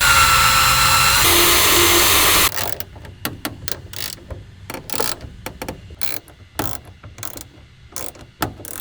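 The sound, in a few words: drilling holes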